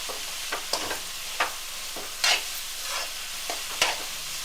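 Onions fry in a pan for prawn fried rice, a soft steady sizzle broken by about ten quick spatula scrapes at an uneven rhythm, close and alone.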